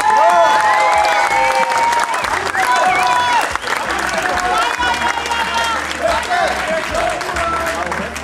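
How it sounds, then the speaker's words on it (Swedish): An audience at a bodybuilding posing event bursts into loud, sustained applause with cheering and crowd noise throughout, close and dense, with a voice audible over it. "Applåder!"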